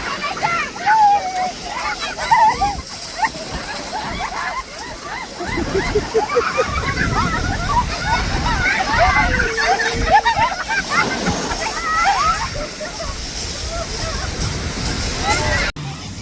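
Sea water splashes and sloshes at Brighton beach as people wade in, with waves churning steadily and voices chattering and shouting throughout.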